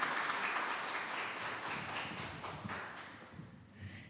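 A church congregation claps together in a sustained round of applause, heard faint and somewhat distant, tapering off toward the end.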